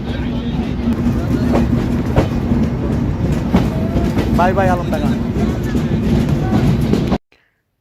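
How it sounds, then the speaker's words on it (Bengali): The Chitra Express intercity train from Khulna to Dhaka pulling out of Alamdanga station: a loud, steady rumble with rhythmic clickety-clack of wheels on rails. Someone speaks briefly over it, and the sound cuts off abruptly near the end. "খুলনা থেকে ছেড়ে আসা ঢাকা অভিমুখী আন্তনগর চিত্রা এক্সপ্রেস পঁয়ত্রিশ মিনিট বিলম্বে আমাকে নিয়ে আলমডাঙ্গা আউট হচ্ছে"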